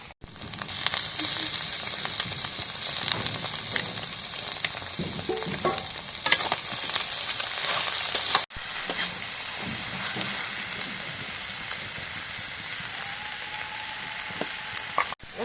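Cabbage leaves fry in a pan with a loud, constant sizzle and occasional stirring scrapes; there is a brief cut partway through, after which the sizzling carries on slightly softer.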